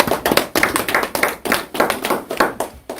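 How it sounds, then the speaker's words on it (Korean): Audience applause welcoming a speaker at a public lecture, sounding as close, loud, rhythmic clapping in distinct repeated bursts from a modest crowd, with no talk over it. "뜨거운 박수로 환영해 주십시오"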